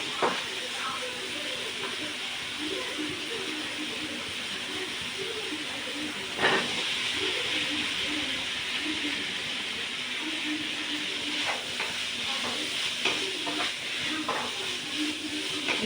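Boiled, chopped potatoes are stirred into vegetables frying in a pan for a Tamil vegetarian dish, giving a steady hiss with scraping clatters from the spoon throughout.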